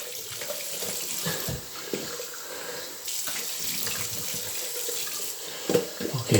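Water runs steadily from a bathroom tap into a sink while a beard is rinsed, a continuous close splashing stream with small changes in flow as hands move through it.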